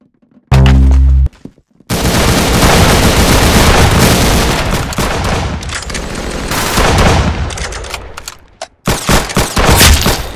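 Rapid automatic gunfire and heavy weapon shots in the Roblox game Arsenal, loud and dense bursts filling most of the stretch after an opening thump, with short gaps between volleys.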